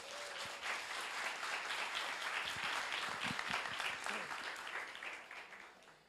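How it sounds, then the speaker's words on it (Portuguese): A crowd applauds steadily for several seconds, a dense patter of clapping heard from a little distance that fades out at the end. "Vamos receber ele com uma salva de palmas."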